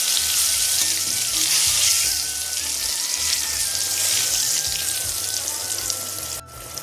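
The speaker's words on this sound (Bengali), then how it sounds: "বেগুন ভাজা হয়ে গেছে এবারে বেগুনটা আমি তুলে নিচ্ছি" Eggplant pieces rubbed with salt and turmeric fry in hot oil in a kadai, a steady close sizzle and crackle with a short clatter near the end; no voices.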